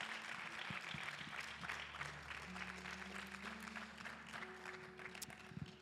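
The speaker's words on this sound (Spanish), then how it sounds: "Give a big applause to the Lord." Applause from a church congregation, steady and fairly faint, with a sustained musical tone underneath and no talk over it.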